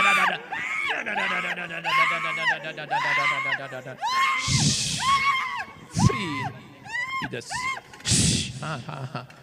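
Loud, strained screaming voices at a church prayer meeting, repeated wailing cries rising and breaking over the room, with shouts and gasps layered through the whole stretch.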